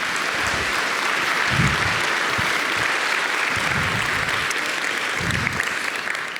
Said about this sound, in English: Everyone, please give Kristine a warm round of applause.